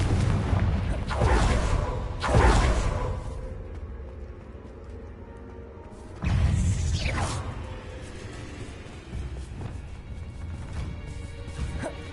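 A Confringo explosion spell goes off in a Harry Potter video game, giving a loud crashing blast followed by rumbling debris, then a second heavy impact a few seconds later over a continuous game soundscape.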